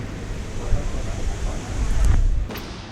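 Water flowing over a small waterfall at a forest-style nature cafe, a steady broadband rush with a gentle rise and fall throughout and no clear speech.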